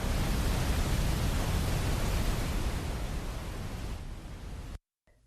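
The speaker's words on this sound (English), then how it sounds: "Here is an example of brown noise." Steady brown noise, a dense, deep, rumbling hiss, plays loud and unbroken for several seconds before cutting off abruptly.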